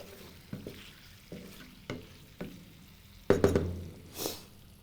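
Chilli tofu cooking in a pan with a dash of vinegar added, giving several soft stirring scrapes and then a brief loud hiss and crackle near the end.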